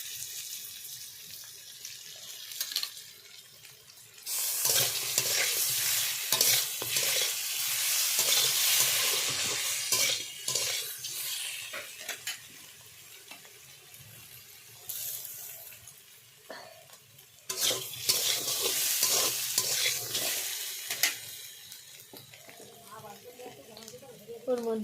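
Taro stems frying in oil with onion paste and chili, a steady sizzle with stirring scrapes in two loud bursts separated by quieter moments, with some background noise in between.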